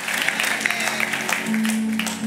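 A church congregation applauding and cheering during a worship service: dense, continuous clapping that stays steady throughout, with some voices mixed in.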